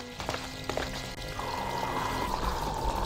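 Water pours into a wineskin at the Fountain of Thera in the Stonekeep video game, a continuous splashing trickle that steadies into an even gurgling flow.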